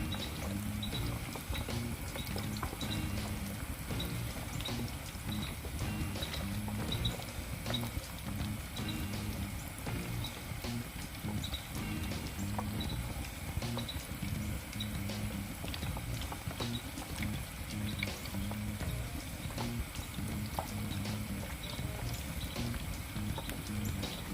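Whole chicken wings deep frying in a basket of hot oil, a dense continuous bubbling and crackling fry that stays loud and even throughout, heard up close with no talk.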